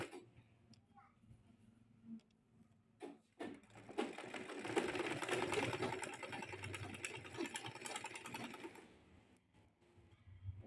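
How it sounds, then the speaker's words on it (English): A sewing machine stitches the curved seam of an off-shoulder Victorian corset, starting with a few short bursts, then running steadily for several seconds close by before slowing to a stop. "You want to make sure that this curve, you sew it into this curve."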